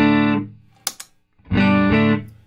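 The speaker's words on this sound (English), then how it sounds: "I've got the Classic 30 set barely breaking up the power amp" An electric guitar played through a Classic 30 amp set so the power amp barely breaks up gives two sustained chords with slight grit. A couple of sharp percussive clicks fall in the short pause between them.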